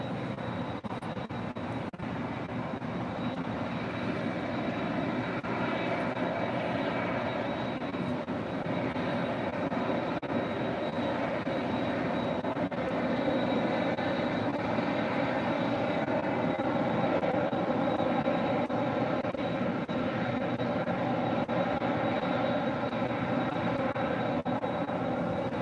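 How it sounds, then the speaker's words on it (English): Lufthansa four-engine jet airliner at LAX, a steady engine roar and whine holding level throughout with a faint high tone, no voices. "Lufthansa, king of the quad jets"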